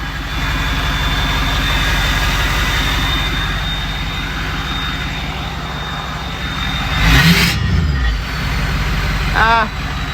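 A loud, steady 6.0 truck diesel engine with an open downpipe drones with a deep rumble throughout, swelling into a harsher roar near the end as it revs.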